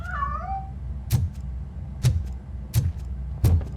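A cat in the video game RoboCop Rogue City meows several times in short, sharp cries spaced about a second apart, fairly close and clear over a low background hum, after a brief synthetic chirp at the start.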